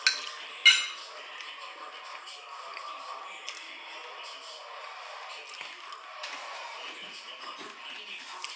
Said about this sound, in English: Scraping the stew off the plate.